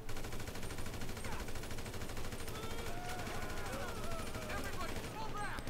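Gunfire in GTA 5 Online rattles steadily under a constant dense game mix, with bursts of shots blending into the background for the whole stretch.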